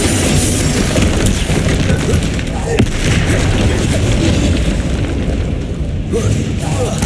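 Confringo blasting spells burst without pause in a Hogwarts Legacy duel, a dense roar of booming explosions and crackling impacts with voices shouting over the din.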